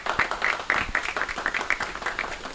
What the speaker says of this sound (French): Je vous demande de les applaudir chaleureusement s'il vous plaît.